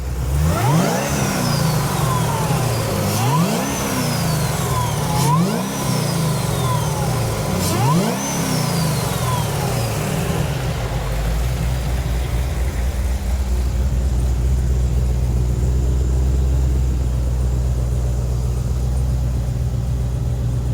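A supercharged 700+ whp Dodge Charger GTS engine revs hard four times in quick succession, each pull sweeping up with supercharger whine, then settles into a deep, loud, rumbling idle.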